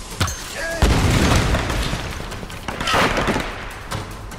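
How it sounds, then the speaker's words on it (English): Gunfire and heavy booms from the video game Tomb Raider (2013): a few sharp bursts and thumping blasts over a noisy rumbling bed, fairly loud and close. "Why are you shooting me?"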